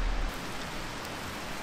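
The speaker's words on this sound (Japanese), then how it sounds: "本格的に雨かも、" Rain falls steadily at a bonfire campsite during solo camping while steak grills over the fire, a continuous close hiss of drops on surfaces with no talking.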